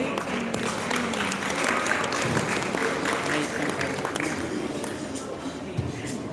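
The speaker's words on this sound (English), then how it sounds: "Please give a round of applause to Mayaka Martin." Audience applause at a beauty pageant in a hall, a continuous crowd of clapping at moderate distance with voices and crowd murmur mixed in.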